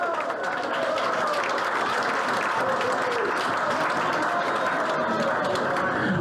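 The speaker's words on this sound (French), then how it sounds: "On les applaudit." Loud, sustained audience applause at an evening event honouring staff and participants, a thick, even wash of many hands clapping with crowd noise mixed in throughout.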